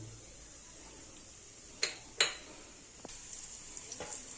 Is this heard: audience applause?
no